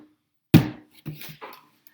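A single deep, hollow thump from a struck plastic tub, followed by a couple of softer, duller taps that fade quickly.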